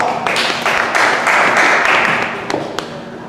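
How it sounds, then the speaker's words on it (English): An audience gives a round of applause during a magic show, a dense burst of clapping that holds steady for a few seconds, then thins out. "give a big round of applause"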